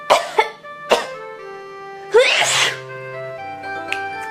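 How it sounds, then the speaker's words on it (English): A person sneezes repeatedly, two quick sharp bursts followed by a bigger, drawn-out sneeze, each close and loud, with a little vocal trailing after. "I have to sneeze."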